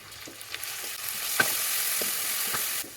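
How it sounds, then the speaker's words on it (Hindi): Steady hiss and crackle of spices, asafoetida, ginger-garlic paste and coarsely ground onion sizzling in hot oil, with a few small pops, close and continuous until the sizzle drops off at the end. "जैसे मसाले क्रैकल होते हैं मैं इसमें डाल रही हूँ 1 पिंच हींग, अदरक लहसुन का पेस्ट।"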